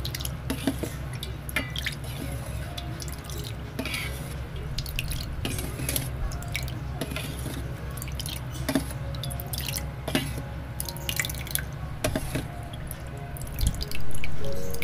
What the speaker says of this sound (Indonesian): Lalu tambahkan 200 ml air putih